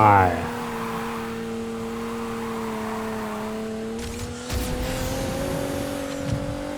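A Nissan GT-R with a Bensopra body kit races in Need for Speed Heat, its engine note holding a strong, steady drone with gear changes and tire noise over game sounds, while a voice talks.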